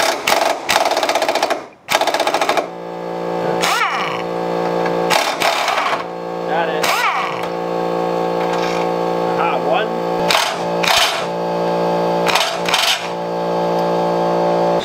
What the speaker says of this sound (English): Go on, air gun.